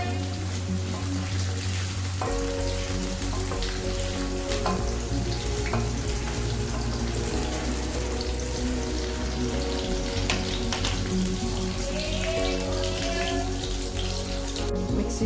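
Brinjal pieces sauté in hot oil in a pan over a medium stove flame, a steady, even sizzle and crackle that holds at a constant level throughout with no voices.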